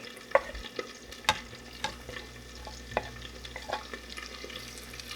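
About four cloves of garlic fry in a pan with a soft, steady sizzle, while a utensil scrapes and taps against the pan at irregular intervals.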